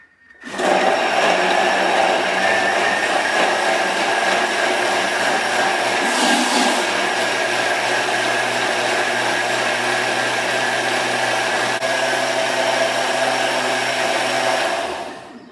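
A blender making green soup whirs loudly and steadily for several seconds, close by, with a constant high-pitched motor whine before switching off.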